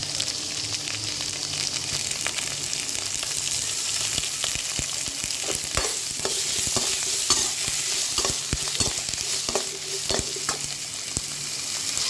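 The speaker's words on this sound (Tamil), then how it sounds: "முதல்ல வெங்காயம் நல்லா பச்சை வாசனை போகிற அளவுக்கு நல்லா வதக்கிக்கலாம்" Onions sautéing in a pan make a steady frying hiss, broken by frequent spatula scrapes and taps that grow busier toward the end, close and fairly quiet with no one talking.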